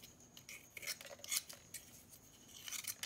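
Masking tape being cut close up, a few short crisp snipping and rasping bursts scattered over three quiet seconds.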